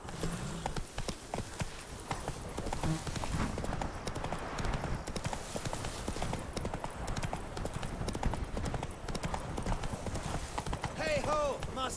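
Horse hooves clip-clopping at a steady riding pace in The Witcher 3: Wild Hunt, continuous rhythmic thuds with game ambience and a voice speaking over them.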